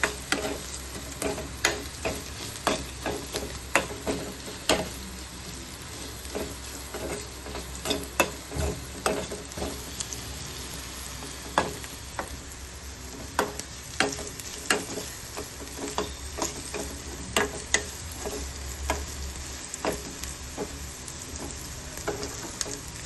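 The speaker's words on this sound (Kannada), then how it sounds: "ಅಷ್ಟು ಚೆನ್ನಾಗಿ ಫ್ರೈ ಆಗಬೇಕು ಅದು ಆಯಿಲಲ್ಲಿ." Food frying in oil with a constant sizzle, and a utensil strikes the pan in frequent sharp taps and scrapes as it is stirred, heard up close with no talking.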